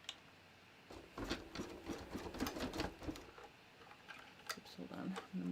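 An embroidery machine basting a stitch outline in the hoop, a rapid mechanical chatter running steadily for a few seconds, fairly quiet at close range with short pauses.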